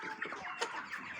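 Chickens cluck continuously in a poultry house, several birds calling close by in a busy, overlapping flurry with no speech over them.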